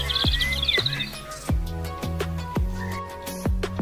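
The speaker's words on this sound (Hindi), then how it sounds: "पंछी चहचहा रहे थे" Cartoon birds chirping on a bright morning, high tweets at the start followed by a series of plucked, bouncy musical notes repeating at a steady pace, with no voices.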